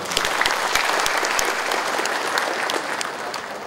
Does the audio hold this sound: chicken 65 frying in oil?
no